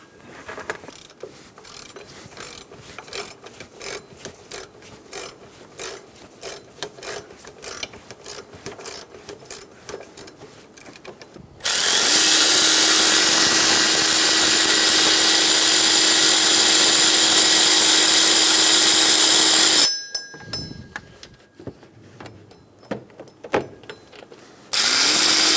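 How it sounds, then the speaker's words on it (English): Socket ratchet clicking rapidly in steady runs while backing out power steering pump bolts on a Toyota Tacoma, followed by a loud sustained hiss-like roar mid-stretch, then more ratcheting near the end. "we're going to remove the two bolts for the power steering pump"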